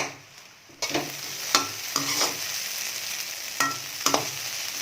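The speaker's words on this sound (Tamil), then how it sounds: "ஒரு 2 நிமிஷம் நல்லா வதக்கிக்கலாம்." Egg sizzles steadily in a hot pan while being stirred for egg puttu, with a series of distinct scraping strokes punctuating the frying, close and clear, with no talking.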